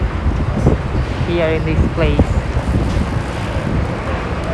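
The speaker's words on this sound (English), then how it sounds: "It's a bit windy" Steady wind rumbles and buffets the microphone throughout on a Manhattan street near the river in winter, with a person talking briefly over the gusty noise.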